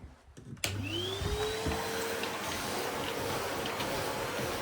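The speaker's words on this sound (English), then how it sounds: "Actually no, I'm going to vacuum that hallway." A vacuum cleaner switches on with a thump and whines up to a steady roar, running continuously and fairly close.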